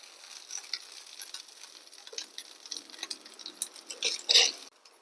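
Hot tempering sizzles as it is stirred into a Kerala-style yam, green gram and nendran banana curry, a soft crackling hiss near at hand that swells into a louder burst of sizzle toward the end.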